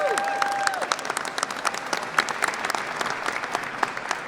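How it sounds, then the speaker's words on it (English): A crowd gives Wayne Fontana a round of applause at a news conference: dense, steady clapping from many hands, fairly close and even in volume for the whole stretch. "Please give him a round of applause"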